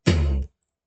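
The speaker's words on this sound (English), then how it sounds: "It's called sub kick." A single sub kick drum sample in electronic music production booms once, deep and loud, then decays for about half a second into silence.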